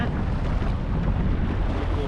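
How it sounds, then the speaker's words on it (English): Rough open sea churns around a Nordhavn 55 motor yacht on an offshore passage between the Bahamas and Turks and Caicos, a constant loud rush of water and wind buffeting with no distinct breaks. "This water's rough."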